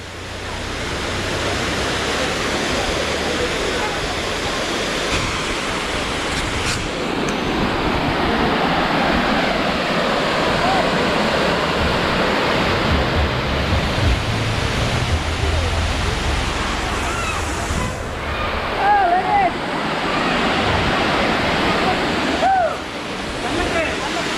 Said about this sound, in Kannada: ಸೊ ಇಂದುವೆ ಅವು ಫಾಲ್ಸ್